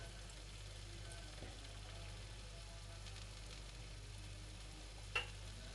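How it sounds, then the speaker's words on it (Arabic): Briouats frying in hot oil, a faint, steady sizzle with a low continuous hum beneath and one brief clink near the end. "ها هي كتقلات."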